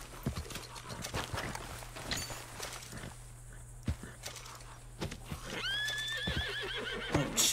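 A horse in the video game Red Dead Redemption 2 whinnies in a rising, wavering cry near the end, after hooves clip-clop at a walk, with faint scattered clatter around them.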